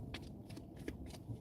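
Soft, rapid riffling of oracle cards being shuffled, a brief flurry of papery flicks close by with no talking.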